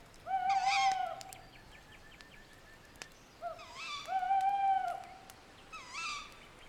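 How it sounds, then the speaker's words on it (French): Owl hooting in the night woods near a campfire bivouac, two long tonal hoot sequences with a pause between, fairly clear over quiet background, no talk. "le ululement du hibou"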